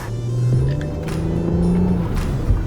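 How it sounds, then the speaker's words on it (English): An Aston Martin's turbocharged engine pulls hard under acceleration, a loud steady droning rumble with rising tones from inside the car and faint hissing puffs from the turbos spooling. "you can hear the fucking turbos just going psh, psh."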